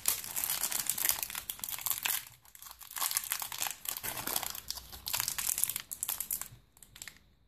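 Foil wrapper of a Pokémon booster pack crinkling and tearing close up, struggled with in several bursts of crackling with short pauses, no talk.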